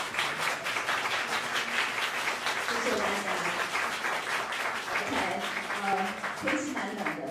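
Applause from a concert audience after a joint ensemble performance, sustained dense clapping lasting several seconds while a voice talks over it.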